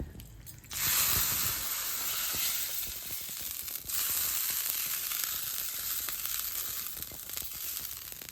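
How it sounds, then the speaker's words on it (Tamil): Hot tempering poured into Kerala erisseri, a pumpkin curry, sets off a sudden loud hiss that settles into a steady, dense sizzle lasting several seconds, close up with no talking. "இப்போ நம்ம அந்த தாளிப்பை அதில் ஊற்றிடலாம்."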